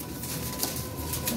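Pigeons kept by a fancier coo softly and shift about, with faint rustling and a steady low murmur throughout, no voices in the short stretch.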